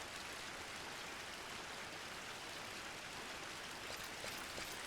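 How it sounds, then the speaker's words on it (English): Rain pours down in the online role-playing game Final Fantasy XI as a dense, steady hiss of broadband noise that holds evenly with no breaks. "Raining, it's pouring"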